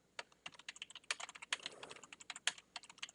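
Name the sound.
typing a comment on a computer keyboard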